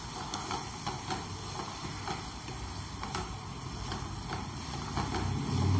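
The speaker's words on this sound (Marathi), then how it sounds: "एक मिनटं फक्त फ्राय करूया का, म्हणजे कम मसाला कच्चा नाही राहणार" Masala for egg bhurji fries in a pan with a steady, close sizzling hiss and scattered small crackles and ticks throughout, no voices.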